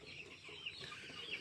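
Chickens clucking at a poultry farm, a steady, fairly faint mix of overlapping clucks and fowl calls with no one talking.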